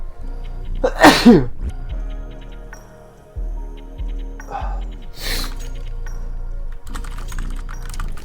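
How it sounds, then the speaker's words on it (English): One loud, close sneeze bursts out near the start, set against game sounds from a Counter-Strike 2 session, with keyboard clicks and a second sharp breathy burst later on. "Hold on, I gotta sneeze."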